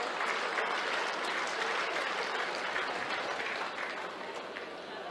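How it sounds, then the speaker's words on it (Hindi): Audience applause welcoming guests at a Van Mahotsav forest festival event in Delhi, a dense, steady burst of many hands clapping at close range that carries through without a pause and eases slightly toward the end. "एक बार जोरदार तालियों से इनका स्वागत होना चाहिए।"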